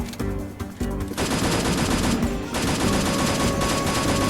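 M4A1 rifle fire in a video game, long rapid automatic bursts that run almost without pause, loud and close, with a brief gap early on before the steady stream resumes.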